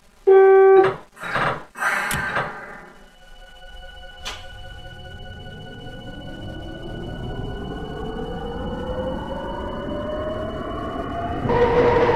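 Tokyu 5050 series train in the BVE5 simulator: door chime and warning tones, then the motor inverter whine rising steadily in pitch as the train departs and accelerates.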